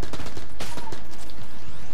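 Rapid game gunfire from Enter the Gungeon, a dense volley of sharp repeated shots crowding closely together throughout, loud and up front over a busy soundtrack.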